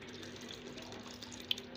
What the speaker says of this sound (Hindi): थोड़ा सा पानी हम जग में हिलाकर इसमें डाल देंगे